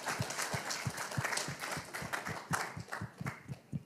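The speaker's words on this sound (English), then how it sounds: "He deserves a hand clap" A church audience claps along in a steady rhythmic beat, distinct regular hand claps standing out over a softer, quieter background of scattered clapping.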